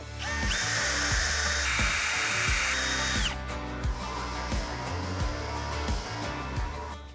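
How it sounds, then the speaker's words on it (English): An air blowgun blasts a steady, loud hiss for about three seconds while clearing out brake parts on an abandoned 4x4 Ford farm truck, then cuts off, leaving quieter workshop clatter and low knocks. "I'm gonna go take a drill bit and a blowgun, clean this out"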